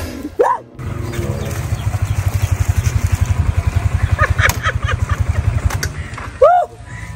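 A motorcycle engine idles close by with a fast, even putter that holds steady, and short bursts of voices come at the start and near the end.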